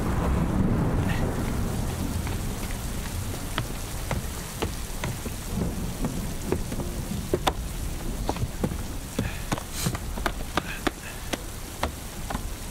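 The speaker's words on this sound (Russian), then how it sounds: "Дождь переждем." Steady rain pours down with scattered sharp drops pattering on a surface, a continuous loud wash with faint rumbling beneath, and no voices.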